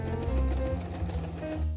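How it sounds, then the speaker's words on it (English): A sewing machine runs steadily, stitching the side seams of a skirt for a daisy-style dress, with a continuous close motor hum and no speech. "The next thing I'm going to do is sew the sides of the skirt."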